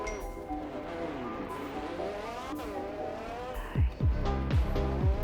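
A Roblox video game car drifts and spins out, its engine droning and whining in shifting pitch, then breaking into a burst of rapid rising revs and tire noise near the end.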